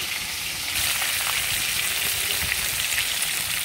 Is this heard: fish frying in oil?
yes